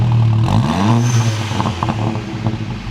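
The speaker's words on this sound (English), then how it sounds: "Rev her up, Santa." A Mk7 Volkswagen GTI with an APR Stage 2 downpipe exhaust revs hard, its engine note rising sharply then settling into a rumbling, burbling idle with crackles, loud and close with no talking.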